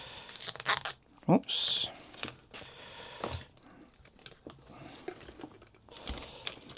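Thin duct tape rips off the roll in a sharp, brief tear, followed by crinkling and handling noises; a person speaks briefly nearby.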